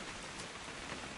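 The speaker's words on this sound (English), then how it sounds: "It's gonna rain the whole weekend," Steady rain falling, a dense even hiss of drops with no breaks across the whole short stretch.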